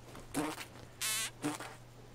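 Insect buzzing in a video game, three short buzzy bursts with pauses between, the middle one brighter and louder, fairly faint overall with no talk.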